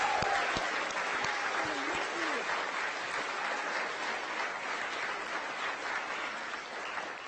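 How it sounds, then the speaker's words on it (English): Sustained applause from a graduation audience honoring upper campus graduates, a dense steady wash of clapping filling the room for about seven seconds with a few faint voices and whoops mixed in. "One more round of applause for our graduates"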